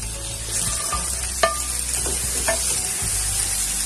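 Onion and mixed vegetables for veg pulao being stir-fried over a high flame: a loud, continuous close sizzle with occasional scrapes and clinks of a spoon stirring the pan.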